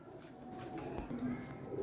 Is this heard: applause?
no